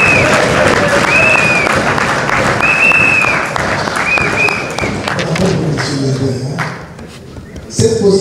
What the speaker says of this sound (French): Applaudissons nos basketteuses.